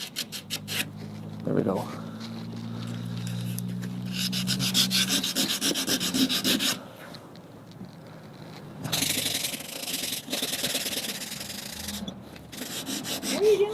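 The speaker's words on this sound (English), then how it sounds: "If you do sand against the grain, go back and sand it backwards." Sandpaper rubbing old varnish off an oak rocking chair in steady back-and-forth strokes, close and fairly loud, with pauses between bursts and brief talk in between.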